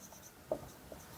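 Chalk or a marker scratches briefly on a board as a few words are written, a couple of faint, quick strokes in a quiet room.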